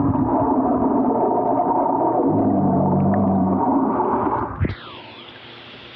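An Insta360 Go 2 camera held underwater picks up a loud, steady rushing water noise that fills most of the recording, then shifts with a splashy sweep near the end and drops to a quieter hiss.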